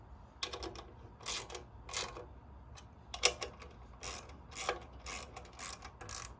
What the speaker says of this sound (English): attach the 8M8 hex head bolts. These bolts are labeled H1 in your assembly instruction manual. Torque tight and go over the bolts a second time